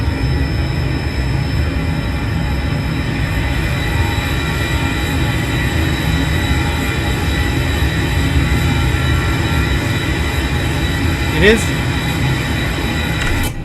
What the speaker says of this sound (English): The plane in the outside view is super loud.